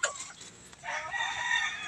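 A lazy round head gamecock rooster crows once, fairly close and clear, a short strained call rising into a longer drawn-out crow over faint background noise.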